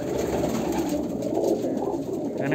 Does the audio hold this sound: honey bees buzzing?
no